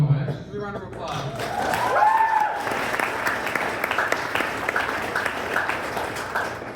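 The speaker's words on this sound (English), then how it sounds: "A round of applause." Applause rises from the guests at a wedding ceremony, a continuous wash of clapping from a crowd that swells and holds steady, following a voice over a microphone.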